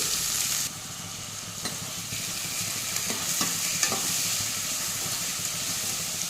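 Chopped onions hit hot oil with mustard seeds and cumin, giving a steady hissing sizzle with occasional spoon scrapes and stirring knocks, close and alone.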